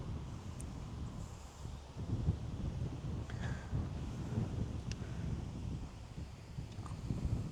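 Steady low wind buffeting a microphone outdoors on the water while bass fishing, a continuous rumbling gusty roar with faint rustling and no clear speech.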